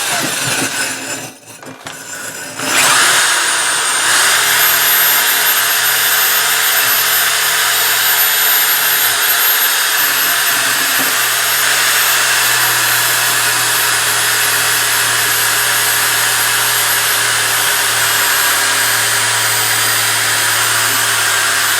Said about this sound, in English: just kind of use my drill and try to get this as clean as possible